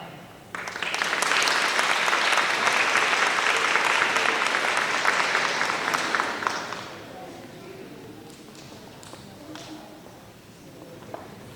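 Loud applause from a crowd at a teacher of the year ceremony fills the first several seconds, then thins out into scattered claps and room noise as it fades.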